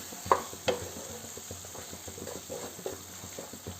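Spice masala frying and being stirred in a pan while making omelette curry, with a soft continuous sizzle under a few sharp clinks and scrapes of a spoon against the pan, close and moderately quiet.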